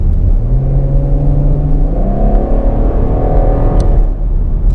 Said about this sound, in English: So I'm going to downshift and then upshift and tell you how long the delay is after I press the paddle and when the car actually shifts.